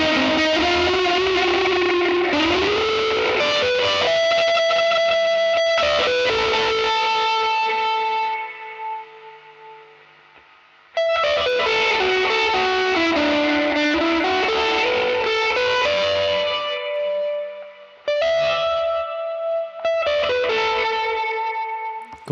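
Electric guitar run through an Electro Harmonix Holy Stain with the fuzz and reverb order reversed, giving loud, sustained distorted chords with a wet, washy tail that ring out in two long phrases, briefly dropping away near the middle.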